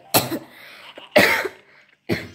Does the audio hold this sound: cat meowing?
no